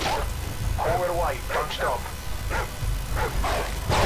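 A dog barks and yips in Call of Duty MW2, a few sharp bursts amid game noise, with someone talking over it.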